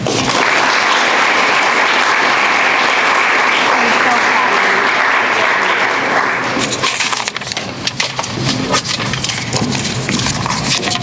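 An audience at a school senior speech event applauds steadily and loudly to welcome a student speaker, with the dense clapping thinning into more distinct individual claps toward the end.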